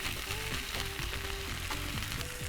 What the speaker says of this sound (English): Oh, I can just hear them sizzling.